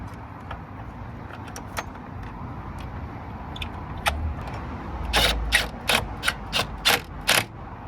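A ratchet wrench tightens the 13mm battery retainer bracket on a VW Caddy, heard as scattered light metallic taps and then a run of sharp, close clicks in quick bursts.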